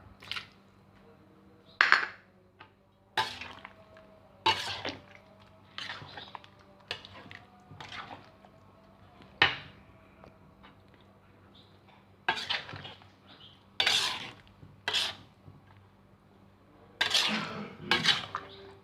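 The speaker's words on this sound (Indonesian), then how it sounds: "kita aduk terus, aduk lagi ya" Utensils scrape and clink against a pan while sambal tumpang is stirred, in a series of sharp, irregular strokes with short pauses over a low steady hum.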